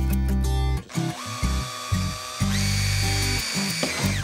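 A power drill drives screws into a wall patch, whirring loud and close in steady bursts that stall briefly and restart, its pitch shifting as each screw bites.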